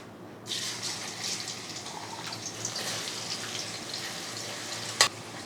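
Sliced onions dropped into hot refined oil burst into a loud, steady sizzle after a brief quiet start, frying continuously with a sharp clink near the end.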